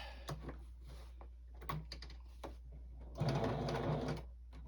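A sewing machine stitches back over a seam on a quilted star table topper with metallic thread, giving a close, steady mechanical whir in short bursts, with one longer stretch near the end.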